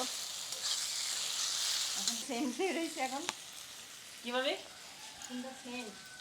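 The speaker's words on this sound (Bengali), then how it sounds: "এখন দেবো এই যে লঙ্কা বাটা আর রসুন এখন আর একটু কষিয়ে নেব" Chili paste and garlic sizzle in a pan with cooked-down tomato and onion, a steady hiss of frying running throughout while a voice talks over it in the second half.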